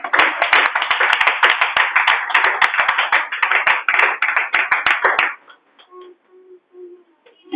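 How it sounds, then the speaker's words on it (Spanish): A church congregation claps loudly and rhythmically together for about five seconds during a worship service, then the clapping stops abruptly, leaving faint scattered sounds. "Denle un fuerte aplauso al Señor."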